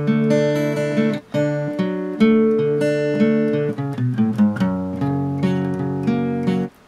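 Acoustic guitar with Rixton strings strummed in a steady rhythm of bright, ringing chords, played up close with short breaks between phrases.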